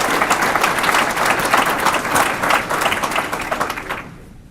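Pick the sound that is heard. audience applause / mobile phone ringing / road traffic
audience applause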